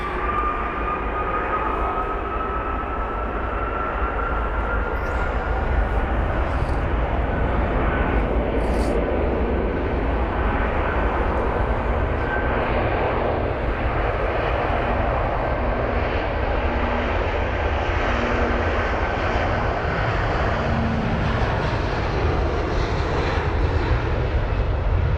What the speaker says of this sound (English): oh no, it's actually a DHL aircraft.